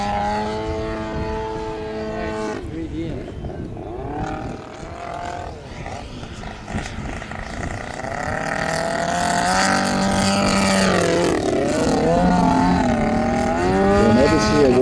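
A Fokker D7 World War I biplane fitted with a bigger engine drones loudly and continuously, its pitch rising and falling as it passes, growing steadily louder toward the end.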